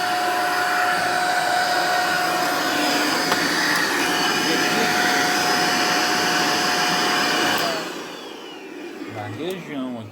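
A household vacuum cleaner, suspected of a short circuit, runs loud and steady on direct power with a constant whine, then winds down near the end as its pitch falls away.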